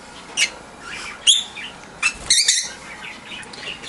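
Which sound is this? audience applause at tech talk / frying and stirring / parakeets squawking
parakeets squawking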